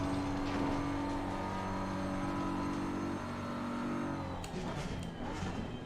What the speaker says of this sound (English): I think the engine is low on cylinders too, because it doesn't sound like we're even getting to the RPM we're getting before.